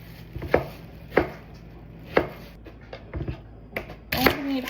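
A knife chops an onion on a board, five or six sharp, evenly spaced thuds close up, with faint room noise between strikes.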